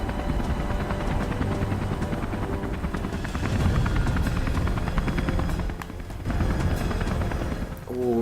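A helicopter in the video game Beyond: Two Souls gives off a loud, steady rotor and engine roar throughout, with faint game sounds mixed in and no clear speech.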